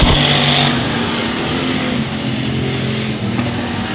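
Dirt track race cars roar loudly down the front straightaway at the Bryan Mize Memorial heats, engines droning steadily with harmonic whine as a pack passes close by, with no voices.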